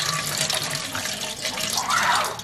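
Running tap water splashing steadily into a pot while rice is rinsed by hand for cooking in a pressure cooker, a continuous close hiss with a brief louder gush near the end, no talking.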